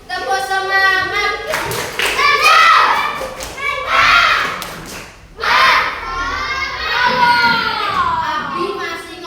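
Class 4 schoolchildren in Indonesia perform the tepuk semangat clapping routine, with rhythmic bursts of claps interleaved with loud chanted and shouted children's voices, close and energetic throughout.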